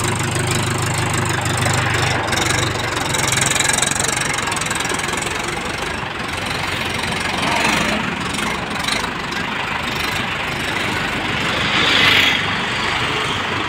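A Mahindra tractor engine runs steadily outdoors, a continuous mid-to-low rumble that holds an even level throughout with no speech over it.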